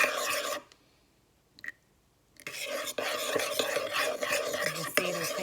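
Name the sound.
whisking eggs while adding warm milk and cream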